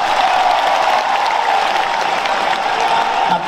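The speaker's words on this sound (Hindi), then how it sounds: "खुद ताली बजा लो अपने हाथों से।" An audience at a religious gathering claps together in a dense, continuous burst, steady and fairly loud throughout before it fades near the end.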